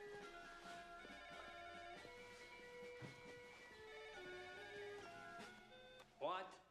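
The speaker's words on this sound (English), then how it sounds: "Yuri, do you want me to get that phone for you?" A private-line telephone rings aboard a ship in a steady, repeating electronic tone. It plays over a continuous tonal background, with faint voices and a short louder burst near the end.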